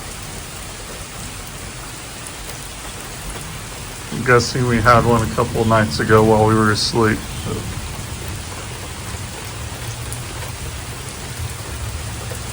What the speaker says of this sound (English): One of our best storms of the season so far.